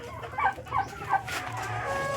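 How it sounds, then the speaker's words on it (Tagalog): Backyard turkeys waiting to be fed give three short clucking calls in quick succession, close by, over a steady low farmyard hum. "Yung pabo, guys, naghihintay ng pagkain."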